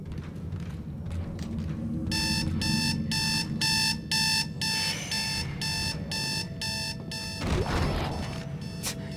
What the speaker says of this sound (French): Marrant, il fait exactement le même bruit que mon réveil.